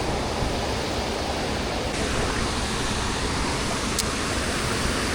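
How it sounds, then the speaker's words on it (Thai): Huai Yang waterfall in a Thai national park: a constant, dense rush of falling water, loud and close, with no break or other sounds standing out. "โอ้น้ำตกสะอาดทุกคน"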